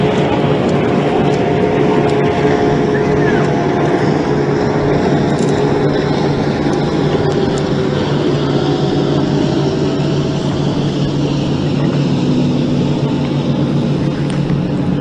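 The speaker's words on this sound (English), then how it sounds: "That's the boat running, so as soon as that boat gets by," A bass boat engine on Lake Guntersville drones steadily and loudly throughout, a continuous low rumble with a broad wash of noise, no voices.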